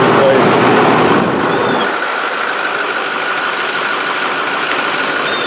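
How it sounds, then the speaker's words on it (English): A diesel engine idles close by in a steady, dense drone, with a louder, fuller burst during the first second or so before it settles into an even hum; the work involves installing a coolant filter on a diesel that is leaking. "You're not gonna be able to hear me talking over the sound of the engine"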